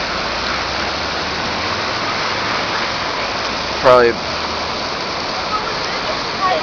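A fast-flowing river swollen by flooding in Loveland, Colorado rushes as a loud, steady roar. A brief spoken word breaks in near the middle.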